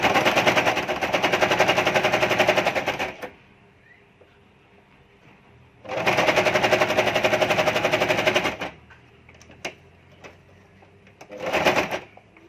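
A sewing machine stitching a homemade cloth face mask, running in two long steady bursts with a short final run, the rapid mechanical whir separated by quiet pauses.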